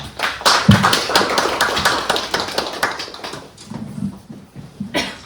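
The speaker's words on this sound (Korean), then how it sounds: "박수로 환영해 주시면 감사하겠습니다" An audience at a lecture on carbon-neutral building certification claps in welcome, a brisk run of many hands for about three and a half seconds that thins into a few scattered claps, nearby and fairly loud with no talking.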